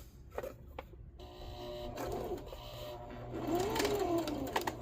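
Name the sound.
sewing machine stitching a fabric cover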